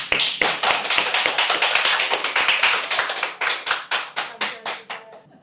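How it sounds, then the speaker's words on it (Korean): A church congregation at a Korean Sunday afternoon Bible study claps in unison, a quick regular beat of sharp near hand claps that slows and thins toward the end, with no talk over it. "박수 한번 쳐주십시오"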